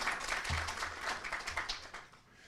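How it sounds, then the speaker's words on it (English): Applause at an AI policy and practice forum, a faint, distant patter of clapping from a modest audience that swells slightly and then fades toward the end. "We should applaud for them"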